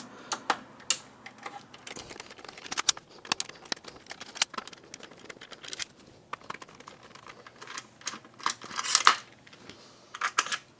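Screws come out of an Xbox 360 console case during an overheating repair, with soft close clicks, small metallic taps and scrapes in scattered irregular bursts, fairly quiet with no talking.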